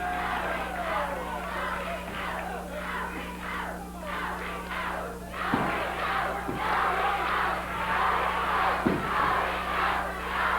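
A wrestling crowd cheers Rick Morton on at a Memphis match, a continuous roar of shouting voices with rhythmic chanting bursts over a steady low hum, a few sharp thumps punctuating the noise.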